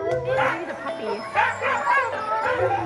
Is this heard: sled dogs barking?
yes